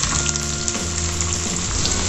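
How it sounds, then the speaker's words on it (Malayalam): Shallots dropped into a mustard seed tempering fry with a steady, dense sizzle that runs loud and close for the whole stretch, broken by a few brief crackles and stirring touches. "ഇനി നമുക്ക് ചെറിയുള്ളി ഇട്ട് കൊടുക്കാം."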